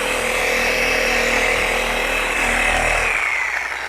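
A power polisher works polish into the paint of a 1956 Continental Mark II, a steady close whirring drone that runs without a break and fades toward the end.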